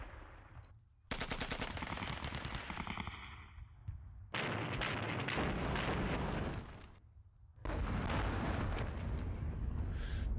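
Artillery barrages from the video game Panzer Battles Normandy pound away in dense, loud bursts of rapid fire and explosions, broken by two short quieter gaps.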